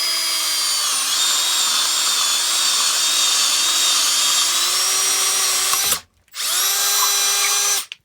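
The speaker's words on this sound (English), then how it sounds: "the Irwin Max Speed bit, and this is made just really to punch through wood" A power drill with an Irwin Max Speed bit whines loudly and steadily as it bores through wood, pitch shifting slightly under load, then stops briefly before spinning up again.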